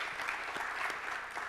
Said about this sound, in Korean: 우리 그래서 그분들께 이 시간 한번 감사의 박수 같이 한번 서로 드리도록